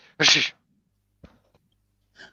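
A single sharp sneeze bursts out up close, followed by a few faint small sounds and quiet.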